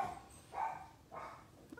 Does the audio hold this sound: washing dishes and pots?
no